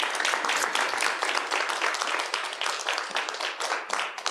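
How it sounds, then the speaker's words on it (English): An audience at a community theatre workshop gives a round of applause, dense and energetic clapping that carries on steadily from start to finish with no talk over it. "Let's give everybody a big round of applause."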